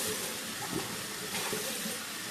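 Water running steadily from a tap as a face is rinsed, a close, continuous splashing rush with slight shifts in the flow.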